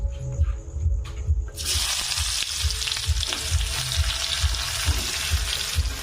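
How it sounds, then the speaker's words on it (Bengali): Chopped onion sizzles in hot oil in a kadai, a steady bright hiss that starts abruptly after a quieter moment and holds loud and close, with low stirring thumps underneath. "কড়াইতে তেল দিয়ে দিয়েছি, তাতে পেঁয়াজ কুচি দিয়ে দেব।"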